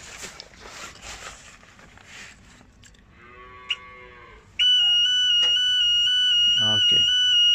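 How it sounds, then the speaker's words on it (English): A Niftylift access platform's cage overload alarm sounds as a loud, steady, high electronic tone that begins abruptly midway and holds continuously, after a stretch of quieter machine noise and beeps with a voice talking early on. "so it's alarming, showing maximum load and showing overload symbol as well."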